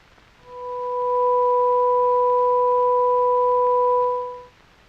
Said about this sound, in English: To this fundamental, we will now add the second harmonic.